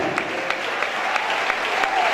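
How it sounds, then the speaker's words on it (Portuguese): Church congregation applauding at a gospel service in Belém, a steady wash of many hands clapping with a few sharper claps standing out, no talk over it. "vamos aplaudir mais"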